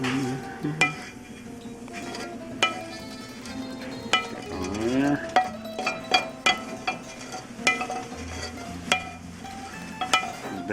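A utensil scrapes and clinks against a greasy frying pan used for browning meatballs, with a run of sharp metallic knocks and scrapes over a low background sizzle.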